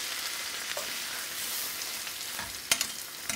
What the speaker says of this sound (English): you will add 2 cups of cherry tomatoes that have been halved